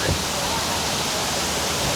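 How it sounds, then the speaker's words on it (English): A man-made waterfall roars as a dense, loud and continuous rush of falling water, close by and alone. "I was really not expecting this, to be honest, like a waterfall right here."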